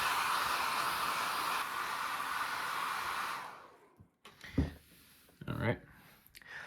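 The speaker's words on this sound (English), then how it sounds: "So I'm just going to start heating it with the hairdryer." A hairdryer blows in a steady, breathy whoosh as it heats an iPhone to loosen the screen adhesive, then switches off, followed by soft handling noises and a person speaking.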